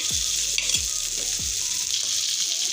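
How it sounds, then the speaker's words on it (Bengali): Three dried red chillies sizzle steadily in hot oil in a pan while a pumpkin and taro-leaf mash is prepared. Three soft thumps stand out as the chillies drop in or are stirred. "তিনটা শুকনো মরিচ দিয়ে দিলাম। এখন এটাকে সুন্দর করে ভেজে নিচ্ছি।"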